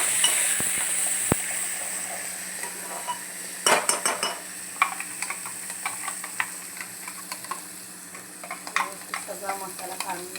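Ground masala and curry leaves sizzle in hot oil in a pan for street-style misal, with a soft steady frying hiss under repeated clinks and scrapes of a spoon stirring against the metal.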